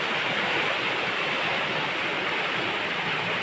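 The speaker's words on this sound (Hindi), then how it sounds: "देख लो कैसा आया है पानी, बदबू आ रहा है पानी से" A river swollen by heavy rain rushes past in a loud, steady broadband roar, close by and unbroken, with no voices over it.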